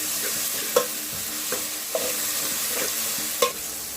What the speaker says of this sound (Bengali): আর এই আদা বাটা রসুন বাটা একটু ভেজে নিব